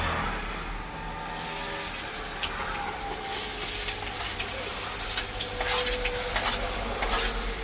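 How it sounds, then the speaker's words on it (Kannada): Onions frying in a pan while a Bangarapete-style chicken dish is being cooked: a steady, close, broadband sizzle and hiss that runs throughout with small crackles, no talking. "ಈಗ ಈರುಳ್ಳಿ ಹಾಕಿದ್ದೀವಿ"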